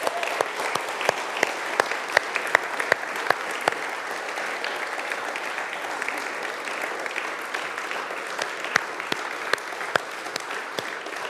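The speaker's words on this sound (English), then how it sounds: "can we just give a round of applause" A church congregation at a Sunday service applauds its team members, a broad, sustained wash of clapping with distinct individual claps standing out, lasting over eleven seconds with no talking.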